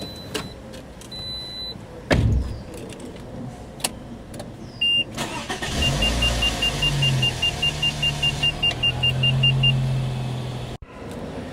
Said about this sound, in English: Now I can get behind the wheel to start my car.